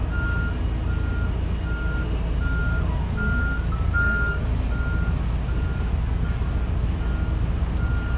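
Truck backing up at a container port terminal in Long Beach, its reversing alarm beeping in a steady repeating rhythm over a loud low engine rumble, no talk.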